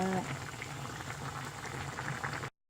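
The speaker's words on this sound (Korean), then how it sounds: "한 번 더 끓여보겠습니다." Old kimchi stew bubbling in a pot, a soft, continuous simmering burble heard close up, then cutting off abruptly into silence.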